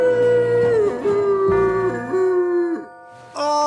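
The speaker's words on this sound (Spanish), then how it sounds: "¡Deja de aullar a la luna tontamente y sin sentido!" A cartoon dog howls at the moon, a long, loud, wavering vocal howl that slides in pitch over several seconds, breaking briefly before a final rise.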